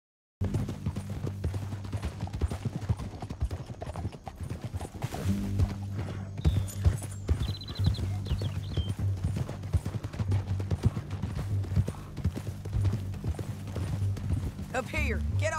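Rapid hoofbeats of galloping horses in Red Dead Redemption 2 run throughout, with voices talking over them and a brief whinny partway through.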